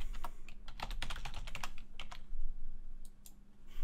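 Someone types on a computer keyboard, with a steady run of close, quick key clicks over a faint hum, no voices.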